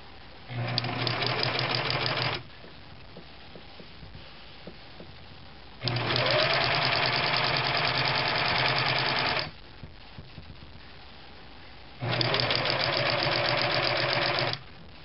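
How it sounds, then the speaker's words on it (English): A sewing machine stitching a 3/4 inch seam across scarf fabric runs in three close, loud bursts of rapid mechanical whirring, separated by pauses of near quiet, with no talking. "I've sewed the 3/4 inch seam all the way across."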